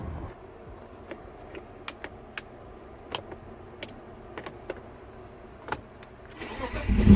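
A BMW E36 car engine idling steadily at close range, with scattered sharp clicks and knocks over the low rumble, then swelling louder near the end as it is revved or the car moves off.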